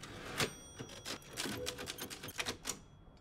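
Typewriter keys clacking in Resident Evil Village, a quick irregular burst of about a dozen sharp close strikes over roughly three seconds, ending with a short fade.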